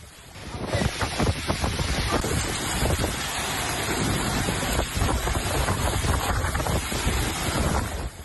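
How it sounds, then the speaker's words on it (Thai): Strong gusting wind during a hailstorm in Rayong buffets loudly and continuously, a harsh broadband rush with rough surges, close to the microphone and with no talking. "บวกกับลูกเห็บถล่มต่อเนื่อง ลมกระโชกแรงจริงๆค่ะ"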